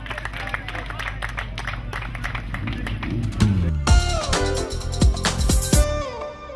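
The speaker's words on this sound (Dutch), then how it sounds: "We geven hem een luid applaus" Clapping for a cyclist at the Tour de Lasalle race mixes with crowd noise and music, then shifts into louder, busier sound with sharp hits and tones.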